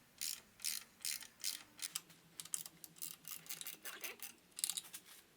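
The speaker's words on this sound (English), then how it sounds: "we're just going to loosen this bolt so that we can get the belt off" A ratchet loosens a bolt to free the belt while replacing the power steering pump on a Subaru STI, giving quick bursts of rapid clicking in an irregular rhythm, close and clear, with no speech.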